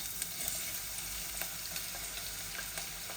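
Onion sizzling in a pan for a Bangladeshi potato and bean bhaji, a steady close frying crackle with small stirring clicks and pops, no talking.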